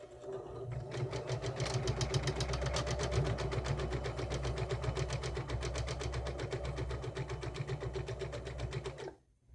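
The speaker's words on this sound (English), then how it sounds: "I'm just going to sew as close to the edge as I can" A home sewing machine runs stitching along the edge of a fabric grocery bag holder, a fast even mechanical rattle with a low motor hum that holds steady for several seconds and then stops abruptly.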